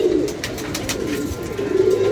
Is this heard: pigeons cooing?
yes